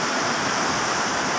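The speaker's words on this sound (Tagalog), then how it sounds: "Tuloy-tuloy ang daloy ng tubig na yan sa mahabang Talumo River na ito." The Talomo River flows past in a steady, continuous broadband rush of moving water, loud and even, with no voices.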